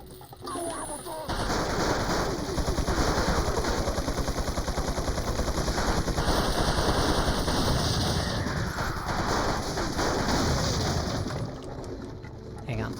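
Sustained, dense rapid gunfire from Resident Evil 4's Ada's Separate Ways, a loud unbroken stream of shots lasting about ten seconds before tapering off.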